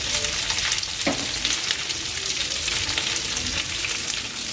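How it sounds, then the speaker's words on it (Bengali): Pieces of ivy gourd (kundri) sizzle steadily in hot mustard oil in a pan, a continuous close crackling hiss with an occasional sharper pop and no talking. "সব তরুলিগুলো ভালোভাবে সর্ষের তেলে ভেজে নিচ্ছি।"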